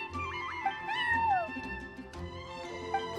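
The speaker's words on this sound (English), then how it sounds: "I'm sorry, that's my neighbor's cat." Charcoal, a cat in the Genshin Impact video game, lets out several close, wavering meows over a soft musical backdrop, with the cries rising and falling in pitch.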